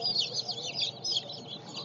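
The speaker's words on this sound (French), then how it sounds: "ce sont les poussins qui ont un jour" A crowd of day-old chicks peeps continuously close by, dense overlapping high chirps rising and falling in quick bursts.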